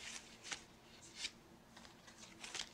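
A Rider-Waite tarot deck is shuffled by hand in several quick, soft, close bursts of riffling cards, with brief pauses between them.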